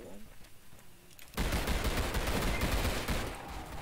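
Rapid pistol fire in the zombie game Zombie Stories erupts after a quieter stretch, a loud dense run of shots continuing to the end, with a voice heard faintly beforehand.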